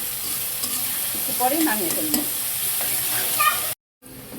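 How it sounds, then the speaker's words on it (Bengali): Onion, garlic and green chillies frying in oil in a pan, a steady close sizzle with occasional stirring scrapes, under a brief spoken remark, ending in a short cut. "এগুলো আমি এখন পেঁয়াজ রসুন আর কাঁচামরিচ ভেজে নিচ্ছি"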